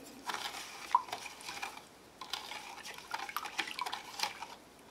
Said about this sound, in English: And then I'm going to stir it, dissolve some of that salt.